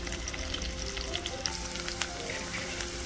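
Cumin and turmeric frying in hot oil with ginger-garlic paste, a close, even crackling sizzle with faint stirring scrapes, no speech.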